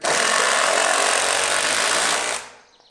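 A power driver sinks 4-inch GRK lag screws into treated lumber while a second-story porch is framed. One loud, continuous whirring grind stops abruptly, and no one talks over it.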